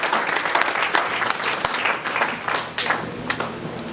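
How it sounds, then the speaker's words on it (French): An audience at a Congolese cultural event breaks into sustained, dense applause, with many hands clapping continuously and loudly close by for the whole stretch. "On applaudit très très fort pour"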